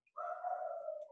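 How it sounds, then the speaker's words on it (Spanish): A pet dog at home in San Luis gives a single drawn-out, whining bark lasting about a second, moderately loud against a quiet room. "disculpen si se escucha el ruido de fondo, que estamos en casa, confinados, y entonces mis perritos"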